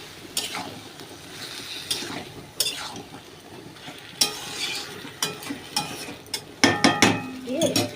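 Banana flower curry is stir-fried in a pan, with a low, constant sizzle broken by repeated scraping and clattering strokes of a spatula against the metal, growing busier toward the end.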